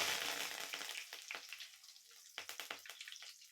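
Curry leaves dropped into hot oil with mustard seeds, frying for a Tamil country-chicken thokku, sizzle hard at first, then the crackle thins into separate sharp pops and spits close by, with no voices.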